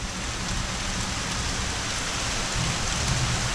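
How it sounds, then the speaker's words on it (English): Steady, dense rainfall patters down continuously, a broad hiss of drops on surfaces with no voices, holding an even loudness throughout. "Mr. Gray, I hear the rain coming again."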